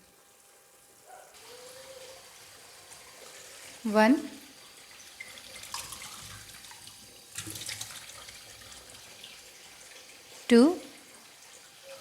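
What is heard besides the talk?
glasses of water poured for basmati rice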